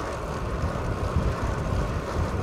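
Strong wind on the Lancashire coast between Lytham and Blackpool buffeting the microphone in a steady, rumbling roar with no break.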